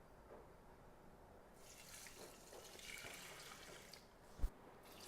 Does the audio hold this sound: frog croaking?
no